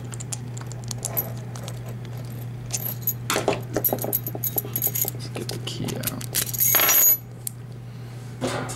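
Metal lock keys for a matrix rekeyable lock jangle and clink as they are handled up close, with a steady hum underneath and a louder burst of jingling near the end.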